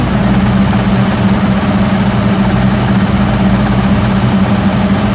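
Rally car engine in Dirt Rally 2.0 rallycross at Hell, Norway, held at steady high revs on the start line, a loud continuous droning hum with vibration and no change in pitch.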